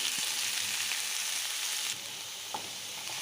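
Jackfruit seed vegetable bhaji hitting a hot pan with popped mustard seeds, a close, continuous sizzle with a few faint clinks and stirring touches.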